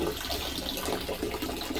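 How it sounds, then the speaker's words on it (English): Water runs steadily into a bathtub, a continuous broadband rush that holds at an even, moderate loudness throughout, with no talking. "how long it would take me to fill the tub with water"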